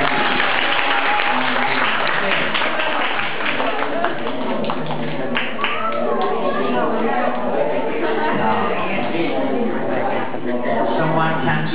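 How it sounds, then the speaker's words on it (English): A classroom of students applauds during a maths lesson on order of operations, with steady clapping running throughout mixed with chatter and voices. "Okay, clap for us."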